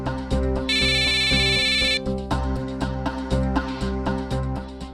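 An electronic ringtone melody plays in repeating pulses, with a bright high tone layered over it for a couple of seconds.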